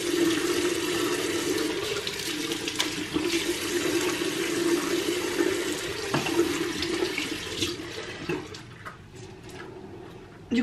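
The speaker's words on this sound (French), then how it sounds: "je vais mouiller le visage" Tap water runs steadily into a bathroom sink while someone wets their face, a continuous close splashing rush that eases slightly near the end, with no talking.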